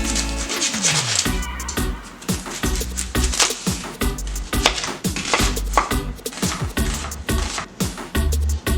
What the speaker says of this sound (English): Now let's cut up the onion.